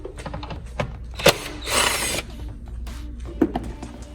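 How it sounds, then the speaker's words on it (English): Bolts on the undercarriage skid of a Mazda CX-9 are removed with an 8mm socket, giving scattered ratcheting clicks and knocks with one brief buzzing burst, close and fairly quiet. "8mm socket to remove the bolts"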